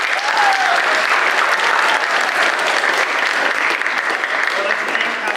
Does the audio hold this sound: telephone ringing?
no